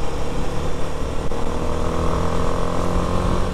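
A BMW RR sport motorcycle engine drones steadily and loudly while being ridden on the Mumbra–Pune road, a continuous close-up roar with no voices over it.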